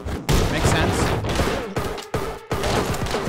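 Rapid bursts of video game gunfire crackle loudly and almost without pause, with a few brief gaps and speech mixed into the barrage.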